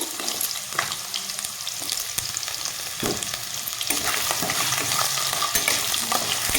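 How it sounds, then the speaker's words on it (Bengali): Cut potato pieces frying in a pan for a bhindi masala give a continuous close sizzle broken by frequent stirring clatters and scrapes against the pan, with no speech. "আলুটাকে আমি একটু ভেজে নেব"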